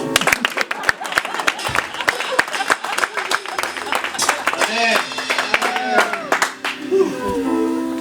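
A church congregation applauds together after a prayer, scattered sharp claps building into steady clapping with voices and music mixed underneath, fairly close and lively throughout.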